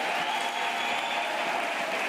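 A church congregation claps in a steady, dense burst of applause that fills the room evenly for its full length, loud and close, with no talk over it.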